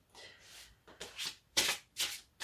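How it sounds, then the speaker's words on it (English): Tarot cards being shuffled by hand close up, a run of soft riffling bursts that get louder toward the end, with no talking. "I'm going to shuffle them again while I focus on your lovely energy."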